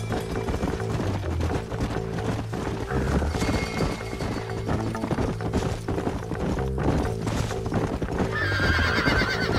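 Horses whinny and neigh over a steady clip-clop of hooves in the Red Dead Redemption western video game, with dense game music and ambience throughout and a brief crash near the end.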